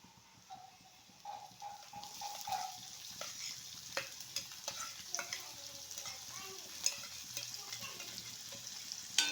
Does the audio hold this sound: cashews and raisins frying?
yes